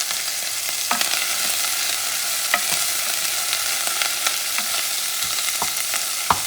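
Green and red peppers stirred with tomato and beef fat in a hot frying pan, a steady loud sizzle with scattered scraping clicks of the spoon, no voices.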